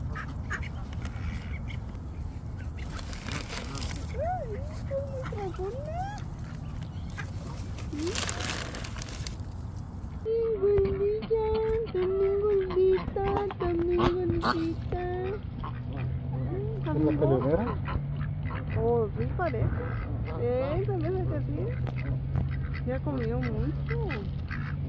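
Ducks quack in a loose, noisy flock nearby, calls rising and overlapping, while people talk over the outdoor background.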